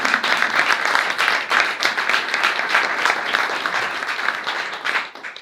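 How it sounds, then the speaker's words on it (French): An audience at a conference on digital technology and energy efficiency in buildings applauds five speakers, with dense, steady clapping filling the room for about five seconds before it quickly dies away at the end. "est-ce que vous voulez bien applaudir nos 5 intervenants"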